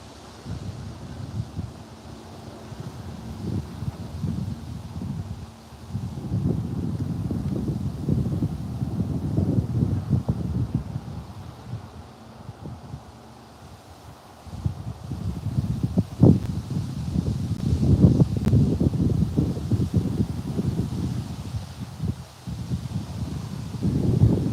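Wind gusts outdoors beside a BNSF rail line on the Hinckley Subdivision, a steady low roar that swells and buffets the microphone, easing for a moment before building again.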